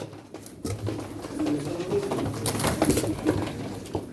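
Pigeons cooing indoors at a pigeon auction, several soft rising coos close by with low murmuring and room noise behind them.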